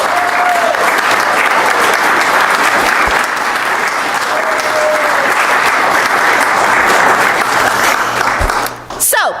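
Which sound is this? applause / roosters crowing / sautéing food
applause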